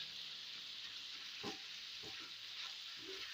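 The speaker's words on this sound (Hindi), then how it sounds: "अब इसको आपने बहुत ही अच्छी तरह से तकरीबन 5 मिनट तवे के ऊपर भूनना है" Minced mutton keema fries in ghee on a tawa over a medium flame, producing a constant hissing sizzle with a few spatula strokes cutting through at intervals.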